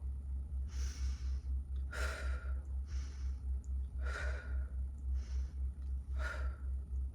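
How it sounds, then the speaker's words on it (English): Slow, deep breathing in and out, several long inhale and exhale cycles in a steady rhythm, close and clear over a low background hum. "Breathe in, breathe out, breathe in, breathe out."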